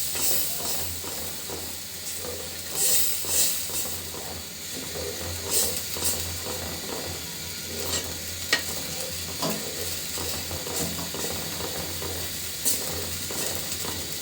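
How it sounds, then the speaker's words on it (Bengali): Dal batter stirred into hot oil with spices for a potato dal, a continuous close sizzle and hiss with rhythmic scraping strokes of a spoon through the thick mixture, no talk. "তো দিয়ে দিচ্ছি এখন আমি ডালের এই বেটারটা, মশলার সঙ্গে খুব সুন্দর করে মাখিয়ে নিব।"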